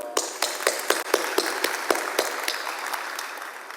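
A crowd claps steadily, a dense patter of hands that fades slightly toward the end, with no talking.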